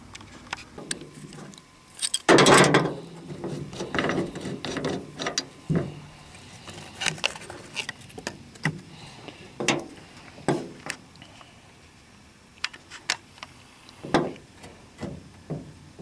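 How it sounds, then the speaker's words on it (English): A small grease gun fitted with a needle nozzle for greasing U-joints is pumped repeatedly, giving close, irregular metallic clicks and ratcheting clacks with quiet handling noise in between and no talking. "I'm going to take this nozzle and I'm going to put it on this little grease gun here."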